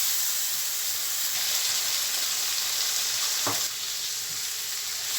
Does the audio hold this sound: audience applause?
no